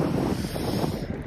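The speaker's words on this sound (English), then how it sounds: "It's windy, but that even adds to the magic." Strong, steady wind buffeting the microphone on a sunny day at the ocean coast, with a broad roar of open water beneath it and no voices.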